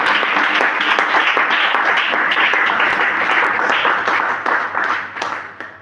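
A church congregation claps and cheers loudly in praise, a dense continuous roar of applause from many people that holds steady and then tapers off toward the end.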